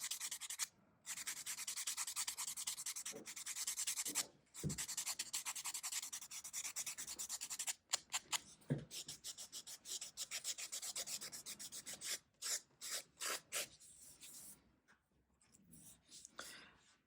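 A nail file buffs fingernails during a simple manicure, making soft, close rasping strokes in bursts with short pauses, quiet and steady.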